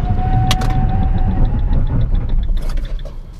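A 2017 Fiat Mobi Evo Way On 1.0 Flex four-door hatchback brakes hard from 100 km/h, a steady loud rumble of engine and road noise with a short squeal, then easing toward the end.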